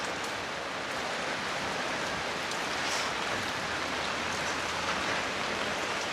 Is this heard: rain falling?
yes